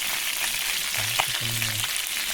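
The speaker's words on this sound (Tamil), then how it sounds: "ரா மீனை அப்படியே எண்ணெயில் போட்டு பொறிச்சு வெறும் உப்பு மட்டும் தான் சேர்த்துருக்கோம்" Raw fish frying in oil with only salt, cooked outdoors in a forest camp, a continuous close sizzle with a brief low hum mixed in partway through.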